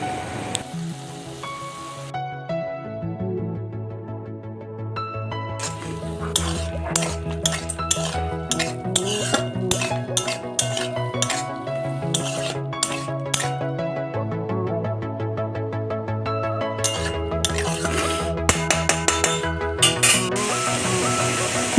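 Ground spice paste is stirred in a pan with a metal spoon, close scraping and irregular clinking against the pan's sides over soft background noise, growing busier as the stirring goes on.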